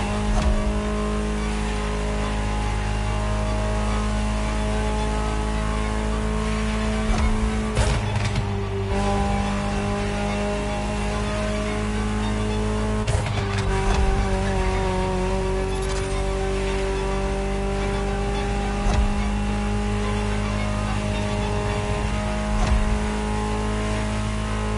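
A Ferrari supercar engine roars continuously up close, revving and shifting through gears with brief surges and dips, no voices.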